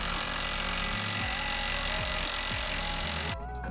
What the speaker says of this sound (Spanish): Aquí utilizo un taladro de impacto y va bastante más rápido